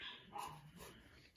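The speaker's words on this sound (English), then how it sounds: "can probably hear my little pug in the background barking at the mailman" A little pug barks steadily in the background at the mailman, a faint, continuous run of yaps and whimpers.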